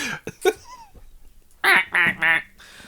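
Duck quacking in a video game, a quick run of three loud, nasal quacks close up, preceded by a few scattered softer sounds and short pauses.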